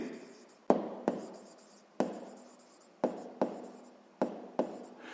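Pen strokes on paper as numbers are written by hand for a sixth-grade maths exercise: a series of sharp taps and short scratchy strokes in an uneven rhythm, close and clear, with no voices.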